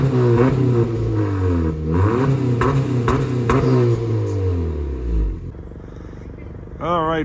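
A 2018–2023 Honda Accord fitted with an active exhaust idles, then its engine revs up and falls back in several swelling pulls, loud and close, ending in a brief higher whine.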